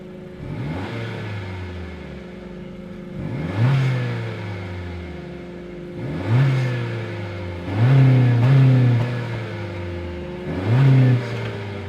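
The 1.5-liter turbocharged four-cylinder engine of a 2026 Honda CR-V EX-L idles steadily, then revs up in four or five throttle blips with falling tails, each rising and settling back to idle.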